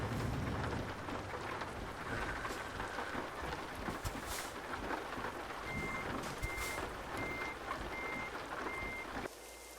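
Steady electronic reversing beeps from a truck backing up in a truck driving video game, evenly spaced pulses over rumbling engine and rainy ambience, with no talk.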